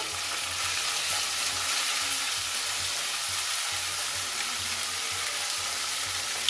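Tomato and onion frying in a pan for a ridge gourd curry, a steady close sizzle with soft intermittent stirring scrapes running throughout.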